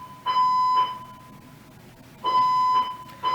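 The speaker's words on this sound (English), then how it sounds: "Why is this a fire alarm going off right now?" A fire alarm sounds in two loud bursts of shrill, pulsing electronic beeps, with a short quiet gap between them and no talking.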